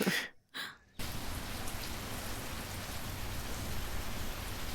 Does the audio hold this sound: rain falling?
yes